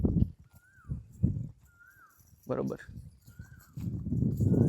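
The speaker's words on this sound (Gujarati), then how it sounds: "ખૂબ જ સારી લાઈનમાંથી બિલોંગ કરતી આ ઘોડી છે" A Marwari mare, about four teeth in age and over 64 inches tall, steps along with clip-clopping hooves among scattered bird calls, while people talk at several points.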